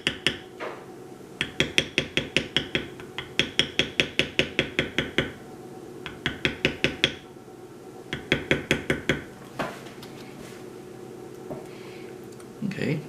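A beveler tool struck repeatedly with a mallet while tooling a wild rose design into leather, bursts of rapid, evenly spaced sharp taps separated by short pauses, close and clear.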